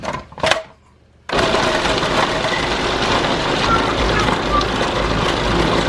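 Meat grinder running steadily as chicken dark meat from a whole chicken goes through it, a loud continuous motor whir that starts abruptly after a brief voice and a pause and holds unbroken to the end.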